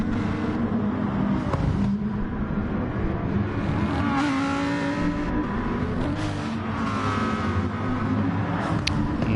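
Continuous roar of race car engines in a racing video game, revving and shifting pitch as they speed along, loud and steady with no talking.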